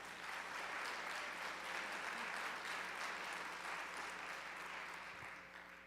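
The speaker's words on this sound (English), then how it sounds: "give them a round of applause real quick" Sustained applause for a school orchestra, choir and jazz band at an eighth-grade night, a broad even clapping from a crowd that holds for several seconds and eases off slightly at the end, heard from a distance.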